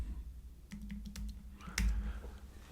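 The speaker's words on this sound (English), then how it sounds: "I'm just going to type in cheetah." Short burst of keystrokes on a computer keyboard, several quiet close clicks in quick succession followed by one firmer tap, with no talking.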